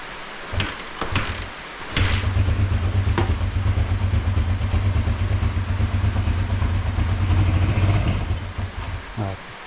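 A Riley Brooklands car engine cranks, catches and settles into a steady, lumpy idle with a rhythmic low thrum and some mechanical clatter, close and loud, for most of the clip.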